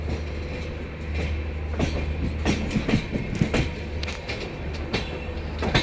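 An express train on the Prayagraj–Delhi special run heads toward Tundla Junction, its wheels giving a steady rumble with repeated clickety-clack beats over rail joints, loud and continuous, with no voices.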